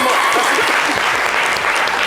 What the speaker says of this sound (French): L'applaudissement pour Jojo, s'il vous plaît.